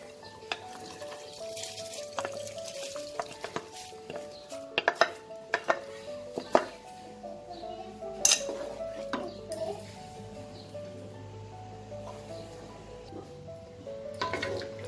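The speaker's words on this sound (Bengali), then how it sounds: "দেখুন আমার এই ইয়াকনিটা ফুটে উঠেছে। এবার আমি এতে রাইসটা অ্যাড করে দেবো।" Rice tipped into a pot of boiling mutton yakhni for Awadhi-style pulao, with close metallic clinks of a spoon against the pot, soft splashes and a steady bubbling simmer, with no talking.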